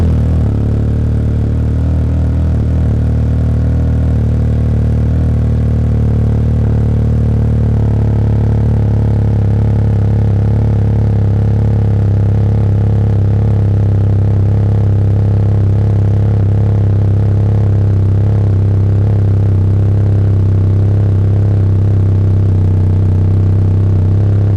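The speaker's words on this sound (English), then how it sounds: "All right, so we're gonna go ahead and get her bike cranked up." Can-Am Ryker 900 motorcycle engine idling with its exhaust, a loud steady low rumble close by that holds for the whole stretch, with a slight shift in tone partway through.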